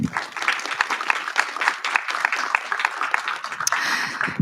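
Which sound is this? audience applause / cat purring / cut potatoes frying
audience applause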